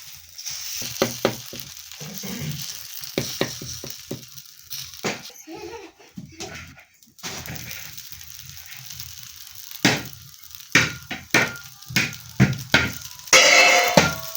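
Dosa (attu) batter sizzling on a hot pan, a crackling hiss that comes and goes in bursts, with people talking and laughing nearby and a voice.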